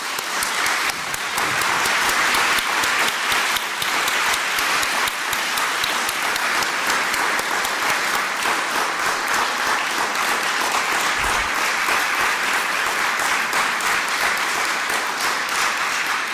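Sustained, dense applause from a lecture audience honoring the Kelloggs, continuous and even across the whole stretch, steady in loudness with no voices standing out.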